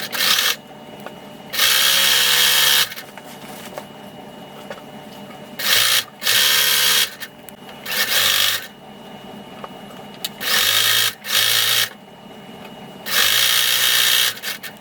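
A sewing machine stitching a hem along the circular edge of a cloak in short, loud, close bursts of rapid mechanical whirring, separated by brief pauses.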